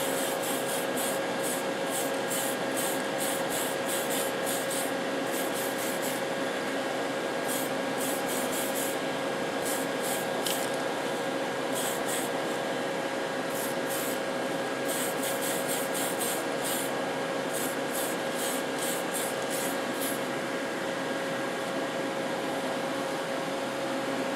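Tamiya TS13 clear coat hisses from a spray can in a steady, close, continuous spray, with a faint rhythmic pulsing throughout and no speech.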